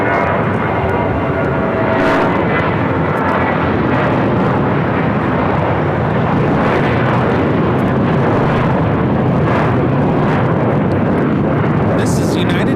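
A United airliner takes off from runway 25 right at LAX, a loud, sustained jet roar filling the scene from start to finish, with voices over it.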